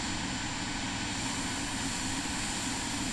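Steady, loud roar of a Vision Jet engine during a takeoff roll in Microsoft Flight Simulator 2024, a constant broadband rush with a high whine, no voices.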